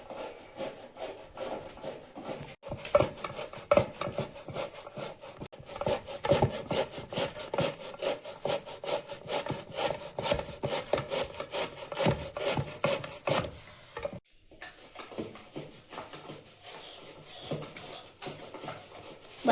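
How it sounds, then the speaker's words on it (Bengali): Ripe palm fruit pulp being grated by hand on a grater, a steady run of close, rhythmic rasping strokes that continues throughout with a brief pause near the end. "তো আমি গ্রেটার নিয়ে নিয়েছি আর গ্রেট করে নেব।"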